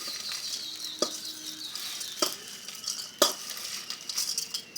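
Chopped onions and tomatoes frying in a pan over a gas flame give a steady sizzle, broken by a few sharp stirring clinks and scrapes spaced about a second apart.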